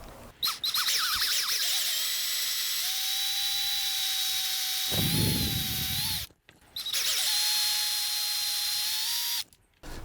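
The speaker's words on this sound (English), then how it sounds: "Want to make sure you drill straight up and down." A power drill whines steadily while boring straight screw holes to mount the neck of a Pango Music headless guitar kit. Two long, high-pitched runs are heard, each with a rising spin-up and an abrupt stop.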